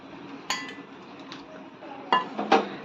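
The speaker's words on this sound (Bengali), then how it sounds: "দিয়ে দিচ্ছি গুঁড়ো দুধ, আমি গুলিয়ে নিলাম।" A spoon clinks against a bowl while powdered milk is stirred in for sukto, giving a few sharp metallic taps spread over a quiet background, close and moderately loud.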